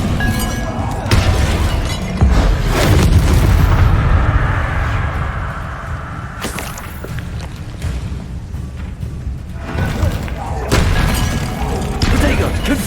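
Bombarda spell blasts from Hogwarts Legacy boom and shatter loudly, with several heavy explosive bursts and crumbling debris spread across the span, interleaved with combat noise.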